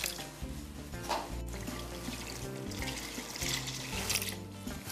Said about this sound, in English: we're gonna add 2 cups of this heavy whipping cream